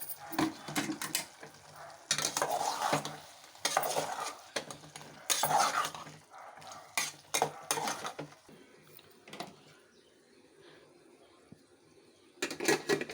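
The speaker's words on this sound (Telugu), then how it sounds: "కొంచెం కారం వేసుకుని కలుపుకోవాలి." A spoon stirs brinjal curry with chili powder in a pan, giving loud bursts of scraping and clatter that alternate with quieter gaps and a faint sizzle, with no talk.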